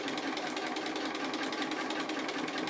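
A sewing machine stitches steadily through a quilt block with dual feed engaged, a fast, even, close mechanical chatter running unbroken throughout with no talking.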